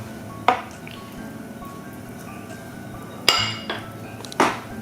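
Yogurt cake batter being mixed with flour in a bowl: three sharp clanks of a utensil against the bowl stand out over a quiet, scraping background, with no talk.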